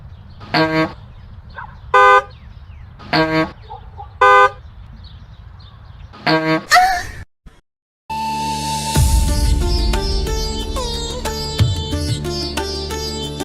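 Car horns honk repeatedly in backed-up traffic, a string of sharp, loud toots in a broken rhythm, each blast separate, followed by a burst of animated music.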